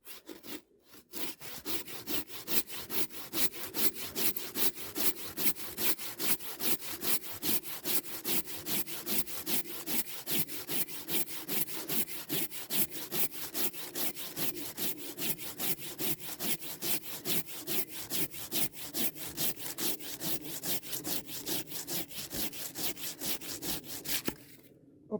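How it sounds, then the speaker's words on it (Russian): Hand saw with coarse teeth cutting through an oak log outdoors, a steady fast rhythm of rasping push-pull strokes continuing for over twenty seconds, close and clear, ending as the cut finishes; no talking. "Но зато грубые зубья, дуб пилит, что надо."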